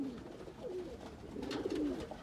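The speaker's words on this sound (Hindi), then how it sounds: "बहरहाल जी आपके सामने जी कबूतर, ये कुछ मैले हुए हैं कबूतर, बड़े शानदार हैं सारे" Golden Kamagar pigeons, a group of showy domestic birds, coo in low rolling bursts at close range, the soft throaty calls swelling and overlapping near the end against a faint background hiss.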